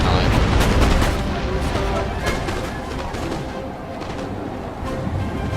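Musket volleys from lines of infantry firing downhill on the Waterloo battlefield in the video game Napoleon Total War, a dense crackle of overlapping shots with scattered louder reports, continuous and fairly loud.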